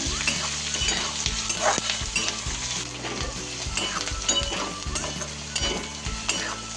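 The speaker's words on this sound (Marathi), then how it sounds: "आता मिरची पण टाकून घेते। सगळं छान तळून घ्यायचं।" Chili and onion sizzle steadily in a hot pan while a Marathi home cook fries them pink for traditional gholchi bhaji, with regular scraping stirs at close range and no talk.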